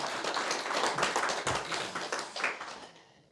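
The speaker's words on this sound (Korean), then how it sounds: "우리 박수 한번 하시겠습니다" A church congregation clapping together during a Sunday sermon service, a steady round of rhythmic claps from many hands at moderate distance that fades out after about three seconds.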